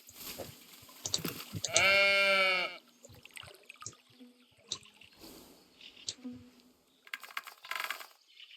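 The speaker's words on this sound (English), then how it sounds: "Oh, there's the sheep." A sheep in the Tiny Glade video game lets out one loud, wavering bleat lasting about a second, surrounded by soft clicks, taps and light chiming game sounds.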